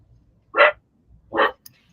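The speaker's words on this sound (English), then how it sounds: "And that is my dog." A dog barks twice, two loud close barks about a second apart with quiet between them, heard alone without talk.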